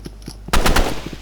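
Bursts of rapid automatic gunfire from the video game Rivals, a short close volley following a few faint clicks, loud and punchy with no speech.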